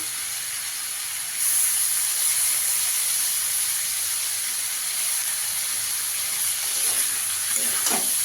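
Curry leaves drop into hot oil already holding turmeric and Kashmiri chilli powder, setting off a sudden loud, steady hiss and sizzle up close that carries on evenly without talk.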